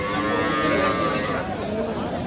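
A cow at a rural cattle market in Aftabganj, Bangladesh lets out one long, loud, low moo that fills nearly the whole stretch, close to the listener.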